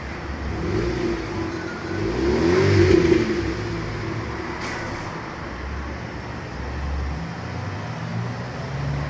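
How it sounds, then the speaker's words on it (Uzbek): A Nexia 3 car engine revs through a muffler made from 1.8 mm thick sheet metal and patched in two places. The engine idles, swells into a louder rev around the third second, then settles back to a steady mid-pitched hum. "Gaz berib qo'yasiz."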